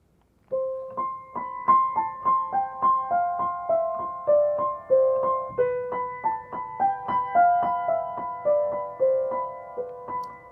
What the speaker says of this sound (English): The second piece is actually a melody written by Handel,